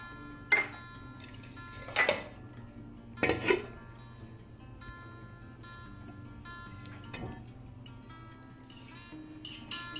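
A lid settles onto a pot of mutton karahi with a few metallic clanks and clinks, a pair of them close together, over a quiet kitchen background.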